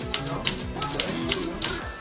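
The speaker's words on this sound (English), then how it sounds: "We have a wide array of typewriters." Typewriters played as an orchestra, including Smith Corona, Royal and Underwood desk and portable models, giving sharp rhythmic key strikes about every third of a second with a bell-like ring, close and clear.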